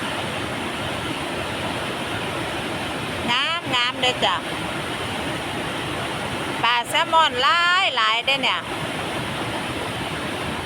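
A waterfall in a valley gives a steady, full, rushing roar that runs unbroken throughout, while someone talks over it in two short stretches.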